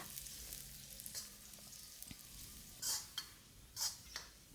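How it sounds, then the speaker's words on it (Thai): Quiet, steady sizzling of garlic and shallots stir-frying over moderate heat in a wok, with occasional scraping strokes of a spatula stirring. "ผัดไปเรื่อยๆนะคะ จนกระทั่งกระเทียมแล้วก็หอมแดงนะคะ มีความหนืดที่ปลายตะหลิวนะคะ"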